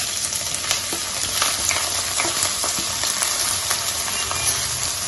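Ingredients for a salmon coconut curry sauté in a pan, producing a dense, continuous crackling sizzle at close range, with light stirring scrapes scattered throughout.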